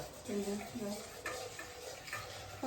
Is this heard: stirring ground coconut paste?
yes